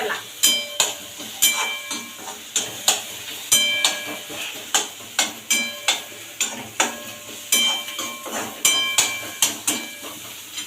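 Chopped onion sautéing for poha in a pan, with a spatula stirring and scraping in a steady rhythm about twice a second over a soft background sizzle, loud and close.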